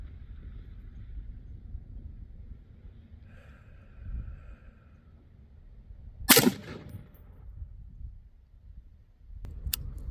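A single sharp, loud rifle shot from a Sig MCX Spear cracks out mid-clip over quiet outdoor wind, followed near the end by a second, fainter bang.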